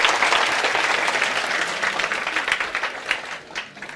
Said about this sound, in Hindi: फुईरा के लिए एक बार ताली बजाओ रे